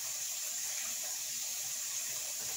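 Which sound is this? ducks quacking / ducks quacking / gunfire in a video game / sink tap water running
sink tap water running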